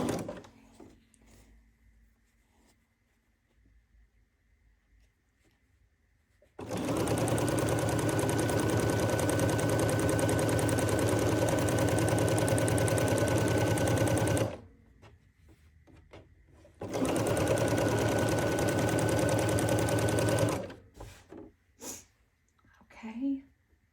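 A sewing machine stitches a quilt in two long, loud, steady runs of rapid mechanical whirring, each several seconds long, separated by a short pause with soft handling noises before and after.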